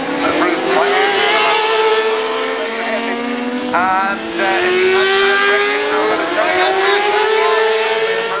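Racing motorcycles, such as a Kawasaki ZX6R, roar through a hairpin bend in a road race, with a steady, loud engine whine that rises and falls as they pass. A commentator talks over it throughout.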